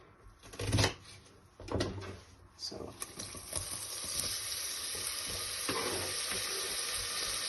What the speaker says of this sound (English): So you want to leave these on low heat so that the garlic doesn't burn and the olive oil doesn't, start burning